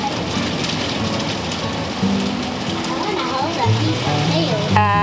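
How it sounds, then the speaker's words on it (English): Heavy rain pours steadily during a thunderstorm, a dense close hiss of drops on surfaces. Voices talk over it throughout. "Just stay inside in the thunderstorm,"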